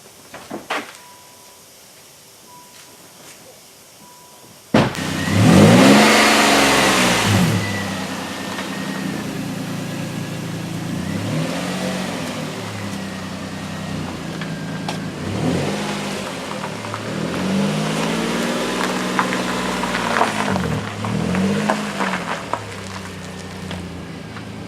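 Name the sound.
Nissan Maxima car driving out of the garage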